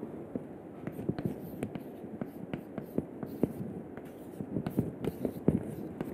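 Chalk or marker taps and scratches out an equation on a board during a lecture, a run of short irregular strokes and clicks at moderate level with quiet room noise behind.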